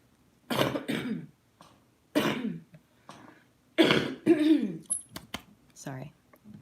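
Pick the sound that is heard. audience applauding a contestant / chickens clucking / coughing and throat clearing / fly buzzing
coughing and throat clearing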